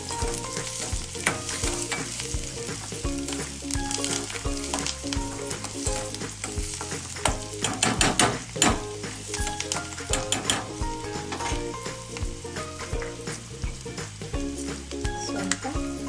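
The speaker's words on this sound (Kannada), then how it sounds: "ಗೋಲ್ಡನ್ ಬ್ರೌನ್ ಬರೋವರೆಗೂ ಹುರ್ಕೋಬೇಕು." Cashews fry in a pan until golden brown for kaju masala, a continuous loud sizzle broken by scraping stirs and occasional utensil clinks, with background music underneath.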